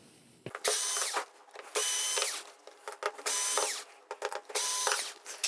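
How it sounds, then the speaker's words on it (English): A cordless drill removes screws from a Sony XBR-55X850C TV, whirring in short repeated bursts, each run a second or so, with ratcheting clicks between; close and fairly loud, no talking. "we can just get these screws removed with our drill"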